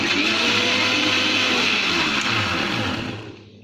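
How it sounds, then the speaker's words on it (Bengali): A blender whirs loudly and steadily, mixing homemade mayonnaise. The motor runs at a constant pitch, then winds down and fades to silence at the end. "আমি 1 মিনিটের মতো এভাবে ব্লেন্ড করে নিব।"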